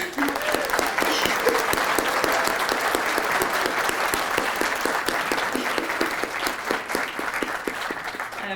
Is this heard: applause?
yes